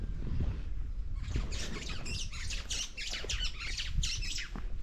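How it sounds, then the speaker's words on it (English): Birds squawk and chirp in an African village, a busy run of repeated calls over low rumbling ambient noise, fairly close and loud, with no talk. "You can hear the birds singing."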